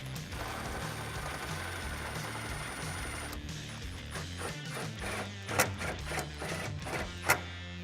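Impact gun driving a fastener on the intake bracket of a 2011-2019 Dodge Challenger HEMI during an Airaid cold air intake install: a steady whirring mechanical buzz for several seconds, then brief rattling bursts with two sharp hammering spikes near the end.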